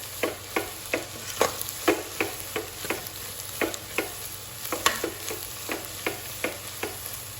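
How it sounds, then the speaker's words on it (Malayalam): Spice powders for bread chili stirred and sautéed in a pan: a regular series of spatula scrapes, about two per second, over a soft constant sizzle, close and clear with no talking. "നന്നായിട്ടൊന്ന് ഇളക്കി കൊടുക്കാം. പൊടികളുടെ പച്ച ചുവയൊക്കെ മാറി കിട്ടണം."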